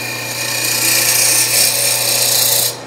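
A roughing gouge shears a spinning wood blank on a lathe in a furniture repair shop, giving a steady, loud rasping hiss over a constant motor hum that cuts off abruptly near the end.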